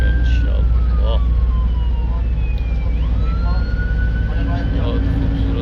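An ambulance siren wails past on a street, its rising and falling tones sweeping by over steady road rumble while traffic hums underneath.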